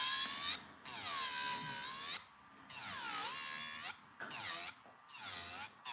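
An electric nail drill files a fingernail at low speed with a different bit. A thin, whining motor tone rises and falls in pitch, sounding in short bursts separated by brief pauses, close and fairly quiet.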